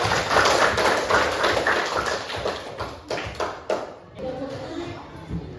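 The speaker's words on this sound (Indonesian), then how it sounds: "Tepuk tangan dulu untuk kita." An Indonesian school class breaks into lively applause. Dense, fast hand claps fill the first few seconds, then thin out into scattered claps as a voice starts speaking.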